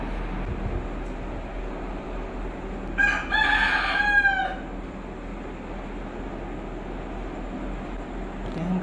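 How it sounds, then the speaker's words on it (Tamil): A rooster crows once at midnight, one drawn-out cock-a-doodle-doo of moderate loudness that lasts about a second and a half, set against a steady low background hum with no talking. "கோழி சேவல் கத்துது."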